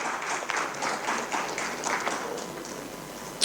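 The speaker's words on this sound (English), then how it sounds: "A round of applause." Modest applause from a small audience at a conference breakout session, scattered claps that thin out and fade toward the end, followed by a sharp tap.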